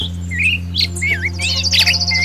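A superb lyrebird sings in Australian forest, pouring out rapid chirps, whistles and sweeping trills one after another, close and clear, over a steady low electrical hum.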